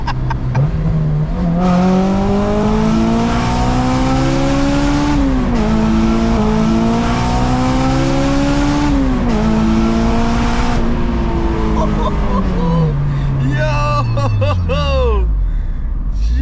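Honda S2000 engine revving hard while driving on the road, rising and falling in long pulls from low rumble to high-pitched wail, loud and close from inside the car, with a shout near the end.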